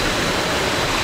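A waterfall on Koh Samui, Thailand roars as a steady, dense, loud rush of falling water with no pauses and no voices.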